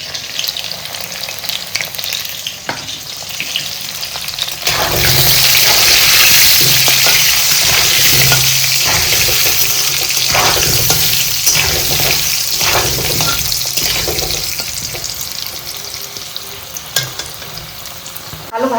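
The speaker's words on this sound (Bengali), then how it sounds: "আলু ভাজা হয়ে গেছে, লাল লাল করে উঠে যাও।" Potato pieces fry in hot mustard oil in a pan, a steady loud sizzle with intermittent stirring scrapes and bursts of crackle, intensifying partway through and continuing without talk.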